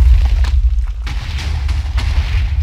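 Cannon blasting TNT in Minecraft, a deep booming explosion with rumbling low end, followed by a couple of softer bursts, heard alone without talk.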